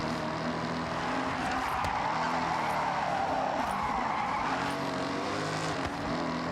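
Engine roar with sustained tire squeal from a car drifting in the Forza Horizon 6 racing game, loud and continuous throughout with no traffic or voices.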